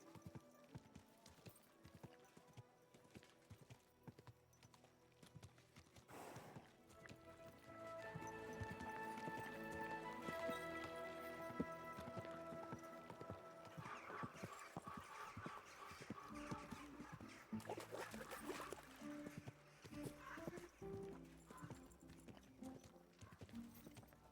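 Horse hooves clip-clop steadily on the ground in the medieval role-playing game Kingdom Come: Deliverance II, a rhythmic, moderately close trot that picks up and continues alongside music for most of the stretch, with no talking.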